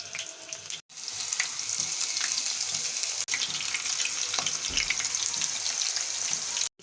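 Potato butterfly snacks fry in hot oil with a dense, even crackling sizzle that carries on steadily, broken by a couple of short gaps.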